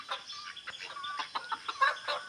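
Chickens cluck in a morning farmyard, giving a steady run of short, close clucks and calls with no talking.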